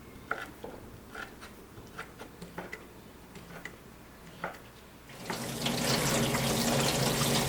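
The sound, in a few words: rinsing cut potatoes under running tap water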